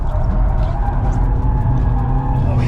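A Super GT race car slides and revs hard on a test track, its loud, steady engine roar continuous and close throughout, with hints of tyre scrub beneath.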